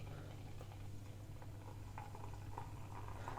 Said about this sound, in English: So I'll try and do a nice good pour.